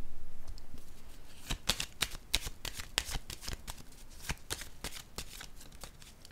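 Tarot cards are shuffled and handled up close in a quiet room, giving a run of crisp riffling snaps and soft slaps in quick, uneven bursts over several seconds, with no talking.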